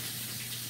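Tap water runs steadily from a kitchen faucet onto a paper towel, a soft continuous gush that is fairly quiet and even throughout with no talking.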